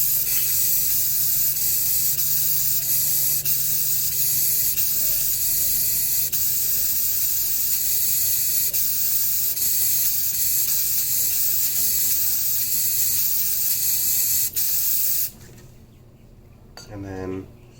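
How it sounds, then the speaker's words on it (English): Spray paint hissing onto water in a hydro-dipping setup for a game controller, a steady loud spray lasting about fifteen seconds before cutting off, with faint handling noise after. "Essentially what you do is you spray it under the water and then make a bunch of rings."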